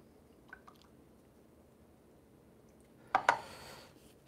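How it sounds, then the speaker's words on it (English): Paint brush rinsed in a water pot while painting a swamp scene, a couple of soft drips early, then a short close splash and swish of water near the end, in an otherwise quiet room. "I'm just going to quickly wash that brush"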